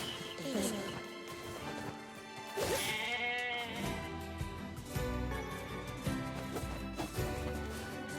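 Sheep bleat repeatedly in the video game Nier Replicant, layered over game music, impacts and sword hits, with someone talking over the action.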